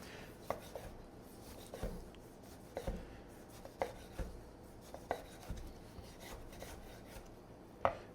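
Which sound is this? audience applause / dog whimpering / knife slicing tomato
knife slicing tomato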